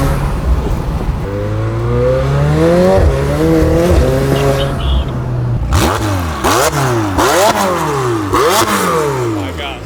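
An orange McLaren 720S sports car accelerating hard, with its engine note rising through several upshifts. Each gear climbs in pitch and then drops, loud and close, with a faint voice underneath.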